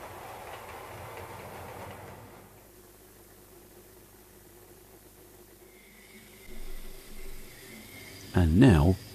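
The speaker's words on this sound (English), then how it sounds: "Now our loco has a pure Great Western train behind her." Hornby model of a steam locomotive running with a Great Western Railway train, a faint steady rolling hiss giving way to louder rumbling bursts near the end.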